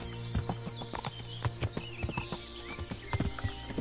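Horse hooves clip-clopping in the medieval game Kingdom Come: Deliverance, a steady rhythmic trot of loud, close hoofbeats over a busy ambient outdoor bed, with no talk.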